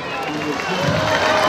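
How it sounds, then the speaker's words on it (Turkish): A crowd claps for a student at a certificate ceremony, a close, loud burst of applause that swells over the short span, with voices mixed into the clapping. "Hüseyin Ateş'e de bir alkış"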